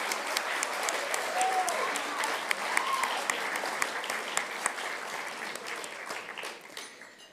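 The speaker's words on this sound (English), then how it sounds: "let's give her a round of applause" Audience applause at a National Press Club journalism awards ceremony: steady, dense clapping from a large indoor crowd, filling the whole stretch at moderate loudness with a few sharper claps standing out, fading slightly toward the end.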